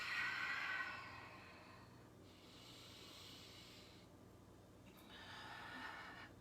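Slow, deep yoga breaths through the nose during a power flow class: a long hissing inhale or exhale, then two more airy breaths, close and fairly quiet.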